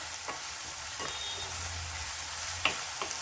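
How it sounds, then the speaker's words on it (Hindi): Onions frying in a pan over a high gas flame while being stirred toward light golden for palak chicken, a quiet steady sizzle broken by occasional spoon scrapes and clinks. "प्याज को लाइट गोल्डन हो जाने तक हमें इसे भूनना है, इसी तरह से फ्राई करना है।"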